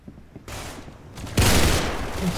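Gunfire in the Roblox game Arsenal: a dense burst of rapid shots, then a louder, sustained volley of close, sharp reports with no talk over it.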